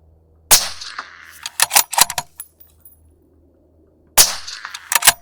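Two sharp, loud reports from a suppressed .223 bolt action rifle, spaced about four seconds apart, each followed by quick metallic clicks and clatter of the bolt being worked between them.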